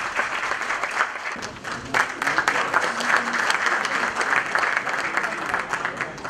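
An audience at a Sakarya sports awards ceremony breaks into sustained applause, dense continuous clapping filling the hall for the whole stretch with faint voices mixed in.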